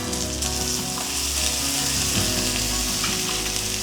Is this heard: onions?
yes